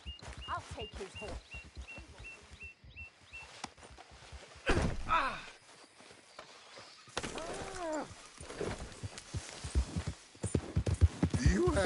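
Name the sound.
horse hooves walking in video game Red Dead Redemption 2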